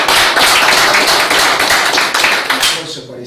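A live audience breaks into applause for Isabel Perón during a lecture on Perón: dense, steady clapping fills the room for about three seconds, then thins out toward the end.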